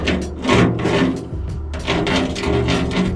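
A Molotow Dripstick 3mm rollerball graffiti marker drags across a rusty metal surface, giving close, loud, rough rasping strokes in a repeated back-and-forth rhythm with no talk.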